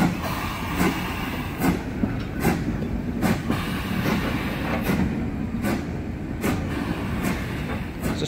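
Steam locomotive Mayflower 61306 with its carriages rolling through Eastbourne, a steady near rumble punctuated by regular rhythmic clacks of wheels over rail joints, with no voices.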